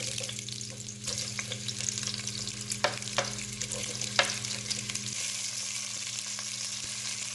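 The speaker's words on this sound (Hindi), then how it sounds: "अब हम पैन में 4 से 5 टेबलस्पून कुकिंग ऑयल ऐड करेंगे और इसके बाद इसमें हम प्याज ऐड करेंगे" Onions sizzling in four to five tablespoons of cooking oil in a pan for palak chicken, a steady broadband frying hiss with a few sharper crackles and spatters, close and continuous, with a low hum underneath and no talk.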